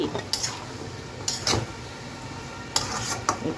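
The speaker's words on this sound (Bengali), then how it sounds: "কিছুক্ষণ পর আমি ঢাকনাটা একটু উঠিয়ে নিলাম তো একটু নেড়ে দিচ্ছি" A spoon stirs shrimp and tender vegetable-stalk curry in a pan, giving a few distinct scraping clatters against the metal with a low simmering background, close and moderately loud.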